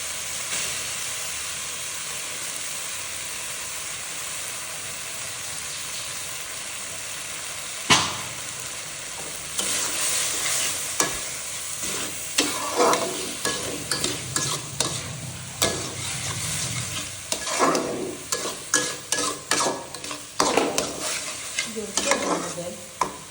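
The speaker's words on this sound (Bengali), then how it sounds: "মশলাটা কষানো হয়ে গিয়েছে এখন আমি ডালটাকে কষিয়ে নেব" Mung dal is stir-fried with cooked-down spices in a large wok, giving a continuous sizzle. After a few seconds, repeated scraping and stirring strokes of a spoon begin and grow busier and louder.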